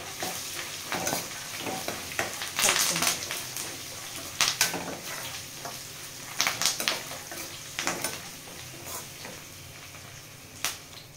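Curry leaves and freshly crushed garlic frying in a pan for a spicy puffed rice dish, a continuous close sizzle with bursts of sharp crackling and spatter plus occasional scraping stirs, no talking.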